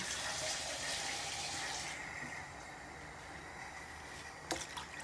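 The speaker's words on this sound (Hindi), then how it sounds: "2 कप और पानी डाल दिया।" Water poured into a cooking pot for chicken haleem, a soft steady splashing and trickling stream that tapers off midway, followed by a faint clink near the end.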